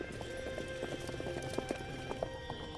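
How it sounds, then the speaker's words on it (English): Horses galloping across open steppe in a medieval cavalry scene, a dense rhythmic clatter of hooves with occasional whinnies, steady and moderately loud with no voices. "When they ride at a gallop"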